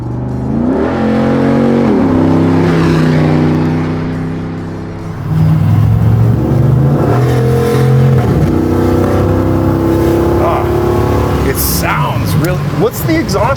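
A Hemi V8 in a classic Jeep Cherokee with a custom steel exhaust revs loudly and repeatedly nearby, the engine climbing and falling through several strong pulls with a deep, steady rumble between them, and voices talk over it.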